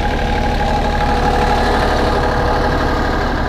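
A repaired excavator engine idles at a steady, even rumble, loud and close, running continuously with no talking over it.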